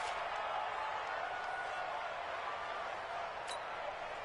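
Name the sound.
stadium crowd cheering in a video game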